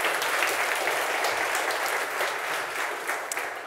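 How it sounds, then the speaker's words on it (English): Conference audience at a Google UK marketing event gives a speaker a round of applause, a thick continuous clatter of many hands that holds steady throughout. "Can you please give him a round of applause?"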